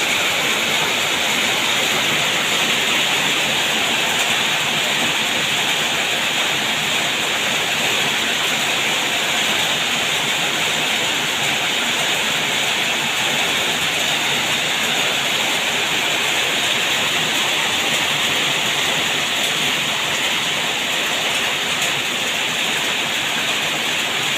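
Heavy storm rain and rushing runoff water on a farm, a loud, steady broadband roar that holds without a break for the whole stretch, with no voices over it.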